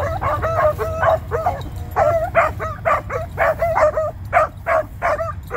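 A Dandy/Woodrow hound pup fresh out of a starting pen yips and barks in quick repeated bursts, fairly faint and distant over steady low outdoor rumble.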